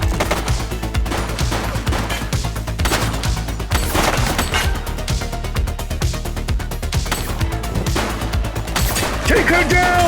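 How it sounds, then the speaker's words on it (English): Rapid gunfire from a shooter in the police action video game The Precinct on Xbox Series X, dense bursts of shots running continuously under a loud game soundtrack, with voices speaking over it. "He's shooting!"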